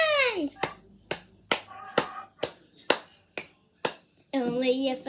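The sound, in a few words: hand clapping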